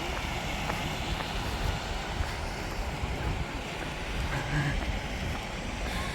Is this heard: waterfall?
yes